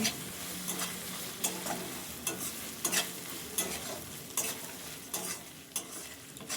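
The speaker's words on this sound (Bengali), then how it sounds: "এরপর আদা বাটা দিয়ে সবগুলো মশলার সাথে ভালো করে কষিয়ে নেব" Ginger paste sautés with spices in a pan under a constant sizzle, with regular scraping stir strokes roughly every half second to second, close and unaccompanied.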